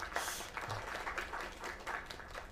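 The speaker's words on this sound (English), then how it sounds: "Another round of applause." Steady applause from a crowd in the video game Lake, a dense wash of clapping that holds for a couple of seconds at moderate volume.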